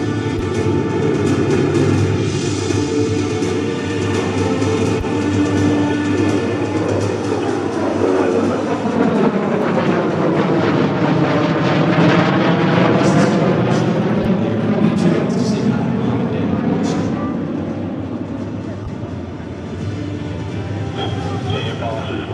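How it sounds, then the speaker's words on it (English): B-2 stealth bomber making a flyby at the 2017 Joint Base Andrews air show, a loud sustained roar that swells and sweeps overhead over steady crowd and wind noise. "the B-2, the stealth bomber."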